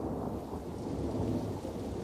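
Torrential rain sweeps in from the north during a thunderstorm over caving country in China, a dense steady roar of downpour with deep rumbling underneath, loud and continuous with no voices.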